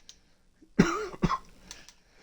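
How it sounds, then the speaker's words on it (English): Two sharp, close coughs in quick succession, rough and throaty, in an otherwise quiet room. "Sorry, again, coughing."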